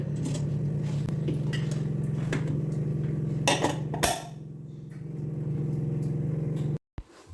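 A lid clatters onto a pot of lentils with butter in a home kitchen, a short cluster of metallic clinks midway over a steady low hum, ending in a brief dropout.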